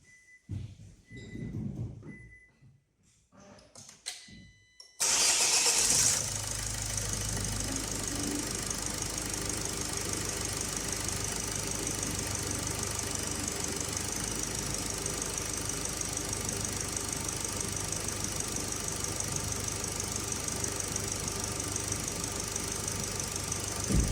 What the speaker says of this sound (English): I will start the vehicle, and I will show you exactly how everything is working so far